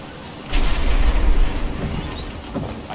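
Rain falling indoors in the game Batman Arkham Asylum, a steady hiss of heavy rain with a deep low rumble swelling in and then easing back, no voices.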